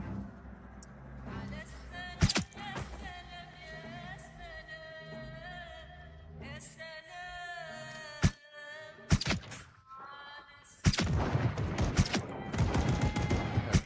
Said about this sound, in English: Good, that's what I want to hear. Gunshots.